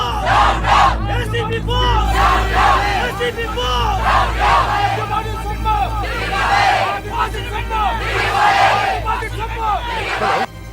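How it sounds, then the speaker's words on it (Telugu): An angry crowd in a Telugu movie scene shouts a rhythmic chant over a steady low rumble, loud and sustained with repeated surges of many voices. "వెనకాల జనం బోస్ డౌన్ డౌన్ అని అరుస్తూ ఇటే వస్తారనా?"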